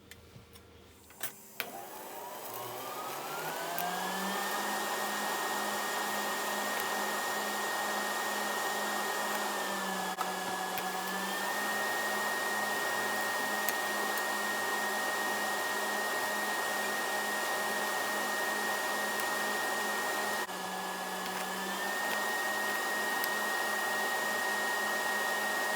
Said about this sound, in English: Next, we got to TIG weld this.